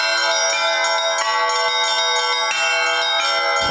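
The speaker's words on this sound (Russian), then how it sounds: "колокольный звон на Новодевичьем монастыре не прекращался" Church bells of the Novodevichy Convent bell tower ring loudly and continuously, dense overlapping peals with rich ringing overtones and steady strikes, no voices.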